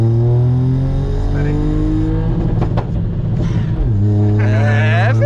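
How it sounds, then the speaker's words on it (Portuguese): An Audi R8 with a Stage 3 hard-cut tune drones loudly and continuously up close, its engine tone rising and falling through acceleration with a few short crackles, while someone talks over it. "mas os pipocos tá forte, mano"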